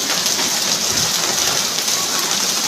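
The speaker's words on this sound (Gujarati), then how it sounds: "સુરતમાં ધોધમાર વરસાદ" Heavy monsoon rain pouring steadily over flooded streets in Surat, Gujarat, a dense, loud hiss of drops hitting surfaces with no break.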